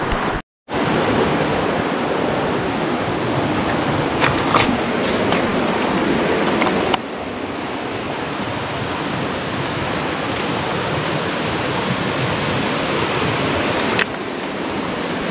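A thick stream of falling water, a loud, dense, continuous rushing roar heard up close with no talk, briefly cut at the start and shifting slightly in level midway.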